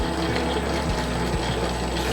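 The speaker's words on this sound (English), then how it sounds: "Still got some water left to put in." Water pours into biga pizza dough inside a running mixer, a steady liquid rush over the machine's low continuous hum, close and fairly loud throughout.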